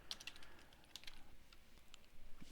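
Light, quick clicks of typing on a computer keyboard, soft and close in a quiet room, with short bursts of keystrokes separated by pauses.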